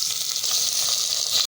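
Minced meat going into a pan of browned onions for qeema samosa filling, a dense, even hiss of sizzling fat heard close and unbroken.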